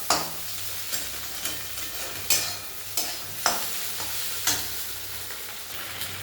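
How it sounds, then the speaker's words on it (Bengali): Boiled pasta is stirred and fried together with eggs in a pan, a steady close sizzle broken by a regular series of scraping stirs about every half second to a second, with no talking. "ডিমগুলো দিয়ে ভেজেছি, এরপরে সেদ্ধ করা পাস্তাটা এর মধ্যে দিয়ে দেবো"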